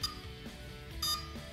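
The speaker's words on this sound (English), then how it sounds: "There is a long beep that confirm again the lowest position has been set from the top position." Two short electronic beep tones from an XK Detect X380 drone ESC during throttle calibration with a servo tester, one near the start and another about a second later, over a low steady hum.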